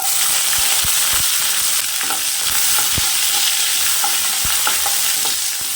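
Peeled garlic cloves and small shallots sauté in a pan for a bitter gourd gravy, a loud continuous sizzle close up, with scattered clicks and taps of stirring throughout.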